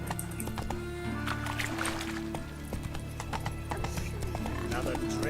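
Hooves of the horse Roach clip-clopping in a steady rhythm in The Witcher 3 game, with a horse whinny and game music and ambience layered around the gallop.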